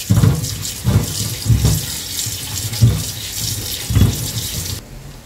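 Running tap water washes coriander and dried fenugreek (kasuri methi) from Rajasthan in a kitchen sink, a steady splashing stream with repeated louder surges as the leaves are rinsed, close by, with no talking.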